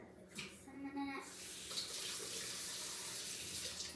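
Water runs steadily from a kitchen tap while baking, a constant splashing gush that begins just after a brief burst of muffled talk and continues on its own.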